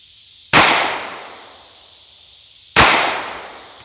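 Two sharp, loud 9mm full metal jacket gunshots about two seconds apart, each with a fading outdoor echo, fired at a coconut packed in ballistics gel.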